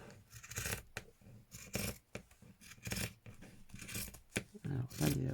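Scissors snip through fabric while a clothespin holder is made for a beginner's sewing project. Repeated close cuts and rustling scrapes come in uneven bursts, mixed with handling noise.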